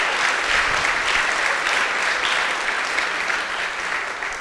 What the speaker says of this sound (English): So we can give a round of applause to them because they were tremendous for us this year.